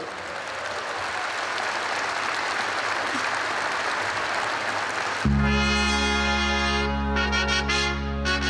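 An arena crowd at a police anniversary celebration applauds in a loud, dense, continuous wash of clapping that gives way abruptly to swelling music partway through.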